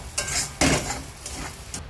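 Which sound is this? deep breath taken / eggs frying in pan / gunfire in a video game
eggs frying in pan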